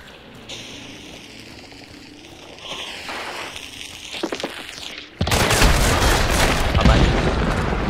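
Gunshots crack out from a window in Hunt: Showdown, starting as scattered dull thumps and building into a loud, dense burst of firing and rumbling impacts over the last few seconds.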